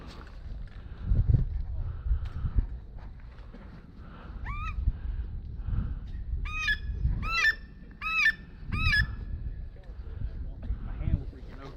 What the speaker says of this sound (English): what kind of duck call that?